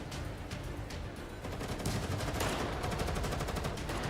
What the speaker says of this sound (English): The sound of gunfire from the distance grew closer